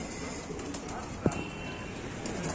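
Soft pigeon cooing under steady background noise, with one sharp knock midway through.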